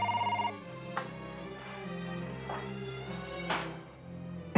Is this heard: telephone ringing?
yes